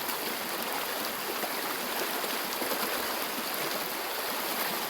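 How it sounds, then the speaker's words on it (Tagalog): A large stream rushes steadily outdoors, a dense, continuous broadband roar of flowing water close by with no pauses. "Ito, ang laki ng tubig mga guys."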